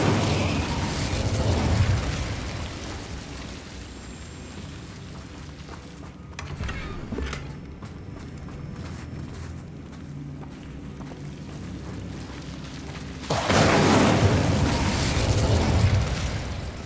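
Incendio fire spell blasts in Hogwarts Legacy burst out as loud, roaring booms at the start and again near the end, with a quieter rumbling stretch of combat effects between them.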